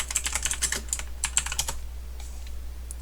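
Typing on a computer keyboard for a craft design search, a fast close burst of light clicking keystrokes over a low steady hum, slowing to a few scattered taps at the end.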